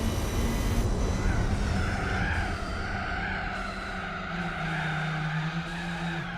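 In Gran Turismo 4, a race car skids and spins out, tires squealing in a long, wavering screech over a steady loud engine drone.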